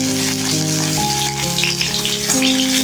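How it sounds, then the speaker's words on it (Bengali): Sliced ridge gourd frying in oil with lightly browned onions, a steady crackling sizzle throughout, with a continuous low humming tone running underneath. "পেঁয়াজ একটু ভাজা ভাজা আছে এরকম ঝিঙে দিল একটু করে ভাজা"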